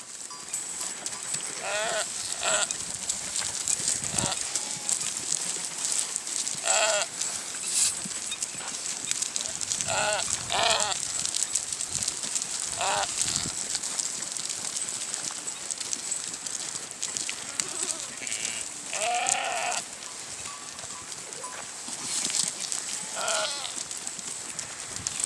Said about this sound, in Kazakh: Бір ешкіміздің лағы өліп қалды. Сол лағын іздеп маңырап тұр.